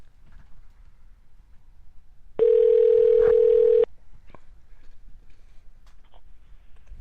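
A telephone dial tone sounds as a steady, clean hum for about a second and a half, then cuts off abruptly, framed by a quiet room hiss.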